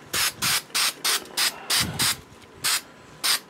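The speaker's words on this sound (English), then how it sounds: "I'm going to start this attachment process by using some spray 77. Lightly sprayed onto the outer edges." Spray 77 adhesive hisses from an aerosol can onto the outer shell of a Rogue One rebel soldier prop helmet in about eight short, close, evenly spaced bursts with no talking.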